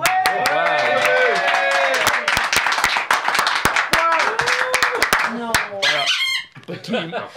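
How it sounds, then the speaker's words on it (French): Audience and crew clapping at a French talk-show taping, sharp individual claps ringing over loud voices and tones, then thinning out as speech takes over near the end. "Applaudissez-vous."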